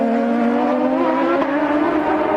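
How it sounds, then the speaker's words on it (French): Champ Car race cars scream past at the Long Beach Grand Prix street circuit in 2006, a loud, steady engine whine with a slight pitch sweep as they overtake, filling the whole clip. "Attention, il y a du trafic pour Sébastien, c'est Will Power qui vient de doubler proprement"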